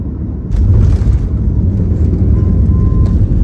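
An Air India Express airplane lands at Lucknow airport, heard from inside the cabin as a loud, continuous low roar and rumble that swells after the first half-second and holds steady throughout.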